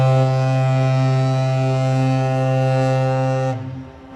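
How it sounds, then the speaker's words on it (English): The freighter Arthur M. Anderson sounds its foghorn in one long, loud, deep steady blast that cuts off near the end, leaving faint outdoor ambience. "It's gonna sound its foghorn pretty."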